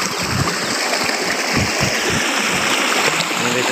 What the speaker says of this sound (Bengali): এখান থেকে জল আসছে, জল এসে এখান থেকে নেমে চলে যাচ্ছে এই সাইডে